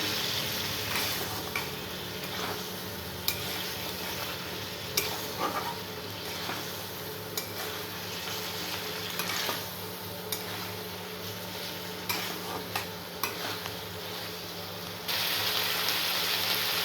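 Curry simmers and sizzles in a pan after water has gone in, a dense steady hiss with scattered ticks and knocks from stirring, close and continuous for the whole stretch, no talking.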